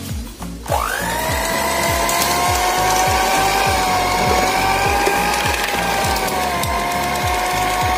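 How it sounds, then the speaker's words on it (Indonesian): A Mito Fantasy Mo-888 electric mixer runs at speed 2-3 kneading bread dough for Korean cream cheese garlic bread, a loud steady motor whine with a rhythmic thumping knock from the dough repeating every half second. "Saya mixer di kecepatan 2-3 ya, di speed 2-3."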